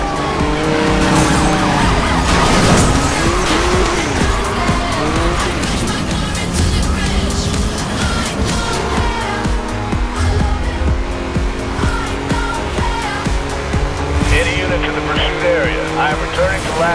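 A Porsche races in Need for Speed Most Wanted (2012) with a loud, continuous engine roar, tire squeal and skids. A police siren wails, and radio voices talk over the car noise.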